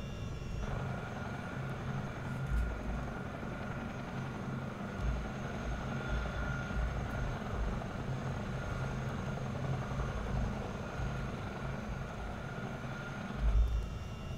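A Chinook CH-47D tandem-rotor helicopter in Microsoft Flight Simulator 2024 drones steadily and loudly throughout, its rotor thrum and turbine whine forming an unbroken, close engine roar with occasional low thumps.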